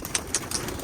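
Pigeons at a loft being let out, with bursts of wing flapping and short coos repeating in quick succession, close and fairly loud, over outdoor ambience.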